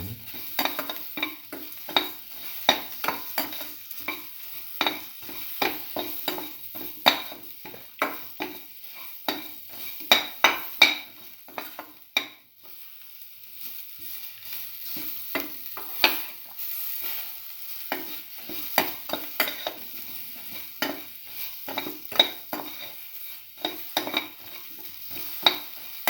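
Egg and tomato pieces are sautéed in a pan with a steady sizzle, and a utensil scrapes and clinks against the pan in an irregular stirring rhythm, close and continuous.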